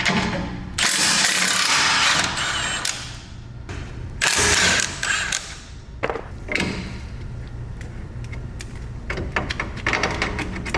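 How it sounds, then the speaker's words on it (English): Wrench working loose 17mm bolts during a rear coilover install on a Subaru WRX: bursts of ratcheting and mechanical clicking, with a couple of dull thumps, loud and close, no talk. "I'll remove the 17mm bolts first."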